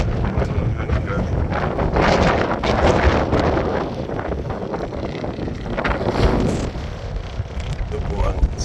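Steady, heavy wind roars and buffets the microphone throughout, with gusts swelling and easing and no clear voices over it.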